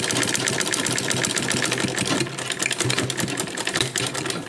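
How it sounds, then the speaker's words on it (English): Manual sewing machine stitching a fashion tote bag, a fast steady mechanical clatter of needle strokes running continuously and close up, with a brief change in rhythm midway. "I'm using a manual sewing machine."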